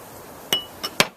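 A Portuguese wine glass is clinked three times in quick succession, each a bright, ringing tap, the last the sharpest, against a quiet background.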